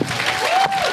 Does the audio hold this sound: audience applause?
yes